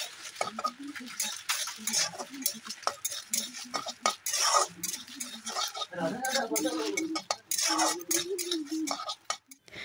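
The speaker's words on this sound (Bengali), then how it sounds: "এখন আমি এই যে সব মশলা আর কি একসঙ্গে সব মশলা ভাজি লইমু।" Mixed spices sizzle and fry in a hot kadai on a gas stove while a metal spoon stirs and scrapes them in quick, irregular strokes, close and moderately loud, with a person talking over the cooking.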